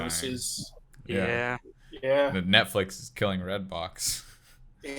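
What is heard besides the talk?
No distinct noise like a dog, phone or traffic.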